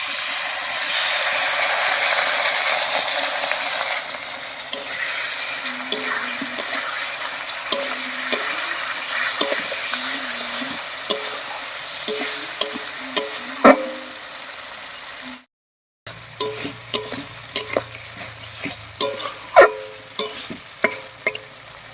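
Spice pastes of cumin, ginger-garlic and onion fry and get stirred in a hot pan, a steady close sizzle broken by scraping stirs, then a brief silence and more scattered spatters and clacks.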